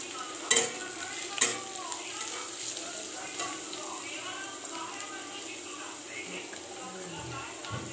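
Capsicum, green chillies and cabbage for veg noodles stir-fry in a hot pan, giving a soft continuous sizzle. Two sharp utensil clacks sound early on, and a faint voice is heard.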